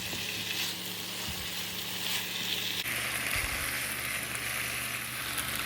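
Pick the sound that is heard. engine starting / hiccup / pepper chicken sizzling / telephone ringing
pepper chicken sizzling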